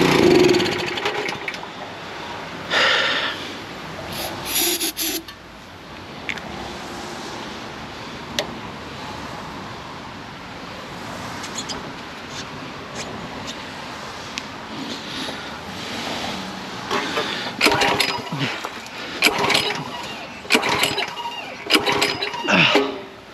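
A Simpson 3600 psi Powershot pressure washer engine runs roughly on bad fuel, a gasoline drone under wind-like noise with sputters and uneven surges, irregular bursts growing busier toward the end.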